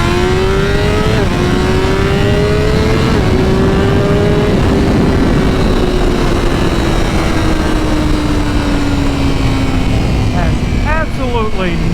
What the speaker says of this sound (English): For getting up the speed on the BMW